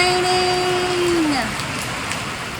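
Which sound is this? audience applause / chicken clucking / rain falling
rain falling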